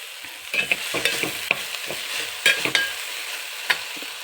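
A wooden-spoon style stirring of cooked wild bhargi greens in a pan: repeated scraping strokes with a soft sizzle underneath, close and fairly loud, no talking.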